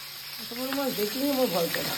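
Bata fish fries in a pan with a steady sizzling hiss, while a voice talks over the cooking noise throughout.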